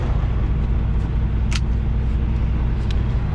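A 49,500 lb mine service truck driving forward, a steady loud low engine rumble close to the mic with a few faint clicks and knocks on top.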